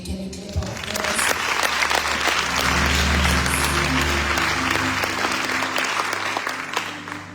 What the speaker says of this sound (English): Can you clap our hands?